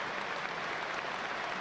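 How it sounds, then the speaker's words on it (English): A football stadium crowd at Everton v Sunderland applauding for Bradley Lowry, a broad, dense wash of clapping that stays even and continuous throughout, heard from within the stands. "the applause for Bradley Lowry"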